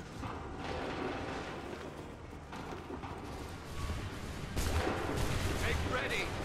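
Musket volleys crack out in Assassin's Creed III Remastered, a battlefield of massed infantry firing in bursts that swell louder toward the end, mixed with game noise and voices.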